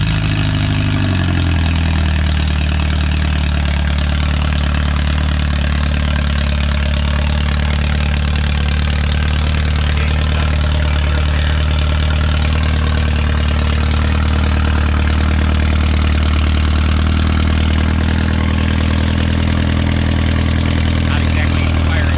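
Original engine of a Renault 4CV running after its first start in about seventy years, settling from a brief catch into a steady, loud, close idle that continues unbroken throughout, with voices talking over it.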